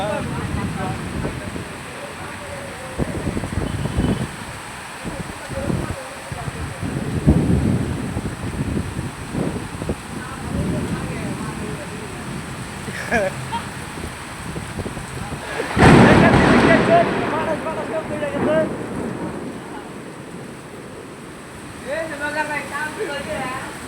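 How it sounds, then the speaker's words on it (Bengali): Heavy monsoon rain pours during a thunderstorm outside a building, a dense roaring wash with rumbling swells and a loud surge partway through, while someone talks over it. "এই যে পুরো বৃষ্টি"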